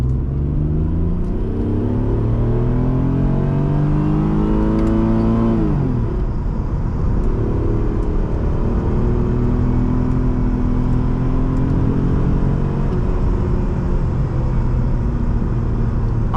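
A 1992 Mitsubishi 3000GT SL with the 6G72 engine pulling hard through the gears, loud and close, its engine note climbing, dropping at a shift near the middle, then rising again in one continuous run without talk.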